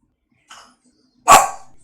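A single sharp dog bark rings out close by, preceded by a faint short whine or yip, with silence around it.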